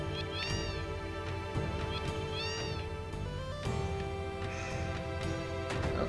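Cats in Final Fantasy VII's Wutai area meow repeatedly in drawn-out, rising calls, clear and prominent over continuous in-game music.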